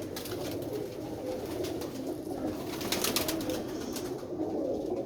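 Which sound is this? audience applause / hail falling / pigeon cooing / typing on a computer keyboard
pigeon cooing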